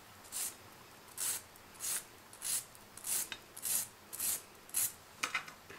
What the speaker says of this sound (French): On lime doucement en faisant attention à enlever les parties d'ongles de gel là où on doit l'enlever uniquement.